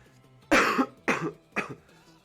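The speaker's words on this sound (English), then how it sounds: "I'm trying to keep my coughing and spluttering down as much as I can" Three harsh coughs from one person come in quick succession, each shorter than the last, close and clear over a quiet background.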